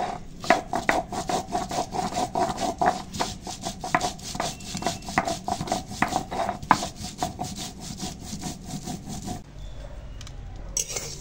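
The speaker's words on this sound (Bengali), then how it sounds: "দেখো, মুগ ডালটা একটু কাঠখোলায় নেড়ে নিচ্ছি" Mung dal being stirred while dry-roasting in a pan: steady, rhythmic scraping and rustling strokes, close and fairly loud, running continuously before stopping abruptly near the end.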